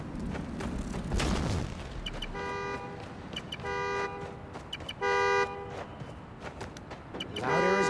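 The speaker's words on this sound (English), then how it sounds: "The more annoying the horn gets, the closer I am." Repeated car horn blasts in the Spider-Man: Miles Morales video game, sounding as several separate honks that grow louder over a low rumbling city background, with a sustained honk at the end.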